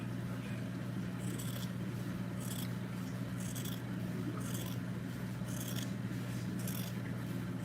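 Scissors snip through fabric for a beginners sewing class, a steady run of crisp cuts at an even pace over a constant low hum.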